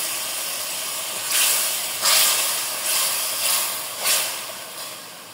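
Coriander, cumin and dried chili paste frying in a pot with a little hot water splashed in, making a steady hiss broken by five or six louder sizzling surges, with no one talking.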